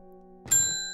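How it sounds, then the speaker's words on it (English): A single bright bell ding from the video game Strange Horticulture, struck sharply and left to ring out over a low steady musical hum. "Let's ring the bell."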